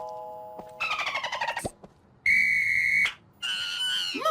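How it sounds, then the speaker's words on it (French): Several short whistle blasts with gaps between them: a warbling trill, then a long steady shrill tone, then another shorter blast. "Pourquoi n'essaies-tu pas plutôt cette petite chose qui s'appelle un sifflet?"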